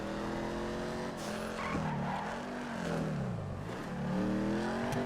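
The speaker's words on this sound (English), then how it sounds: "And now we're in a drag car." A drag car in GTA FiveM roars with a loud, rising and falling engine whine, revving up and down while tires squeal and skid continuously.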